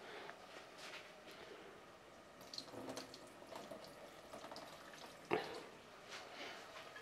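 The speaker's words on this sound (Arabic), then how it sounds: "العدس هو درتو في الماء، غنخويلو داك الماء باش غسلتو وسميتو" Lentils being rinsed under a running kitchen tap, a steady soft wash of water with occasional louder splashes and a sharp knock partway through.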